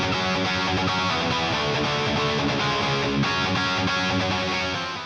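Muted rhythm guitar power chords built in FL Studio chug in a tight, distorted, repeating pattern, loud and continuous with a brief break in the texture before fading at the end.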